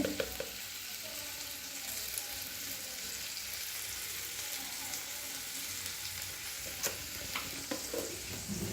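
Chayote fries in a pan with turmeric and salt, giving a steady, fairly quiet sizzle with a few sharp clicks of stirring scattered through; no voices.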